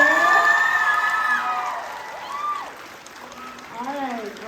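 An audience applauds and cheers for the coach of the year, with whoops and shouted voices rising over clapping at a moderate, lively level.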